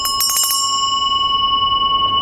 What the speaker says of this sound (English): like this, the bell always starts first